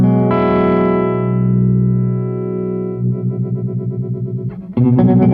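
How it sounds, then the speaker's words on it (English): A JAM Pedals Harmonious Monk MK2 tremolo on electric guitar: a sustained distorted chord rings out, then pulses in a rapid, fluttering throb, and a fresh strummed chord chops along at fast speed near the end. "The speed knob decides how fast your trem is."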